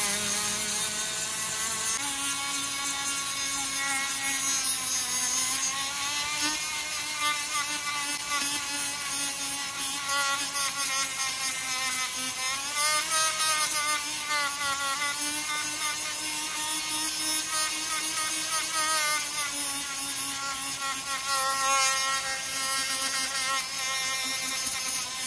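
A rotary tool fitted with a mandrel ports the exhaust of a 2001 Honda CR125, giving a steady, loud, high-pitched whine that rises and falls slightly in pitch as it works, continuous throughout with no talking.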